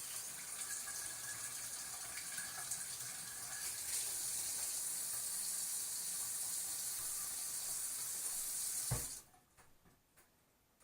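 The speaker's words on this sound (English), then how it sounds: "we have to rinse this basil off first. I'm going to rinse it." Running tap water gushes steadily as fresh basil is rinsed under it, a continuous hissing flow that stops abruptly near the end, leaving a quiet room.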